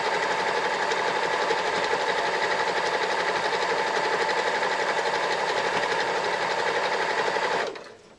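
A sewing machine stitches fabric for a laptop bag in a steady, loud, continuous whir that runs for about seven and a half seconds before it stops abruptly.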